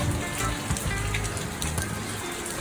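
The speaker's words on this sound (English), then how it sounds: "Alright, people, see the rain there." Steady rain in Jamaica hissing and pattering on surfaces, a dense continuous wash of drops close by with no voices.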